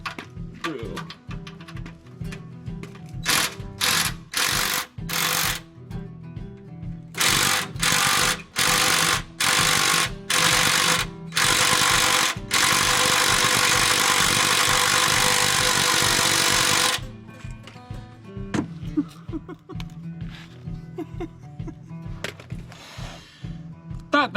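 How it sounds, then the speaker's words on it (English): Rapid bursts of loud hammering rattles from an impact drill loosening a stuck bolt, in short repeated pulses and then a long sustained run, with quieter clatter around them. "let's see if I can bust her loose with the impact drill."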